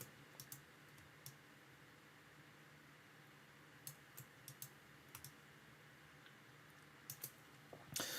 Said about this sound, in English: press Control down on the keyboard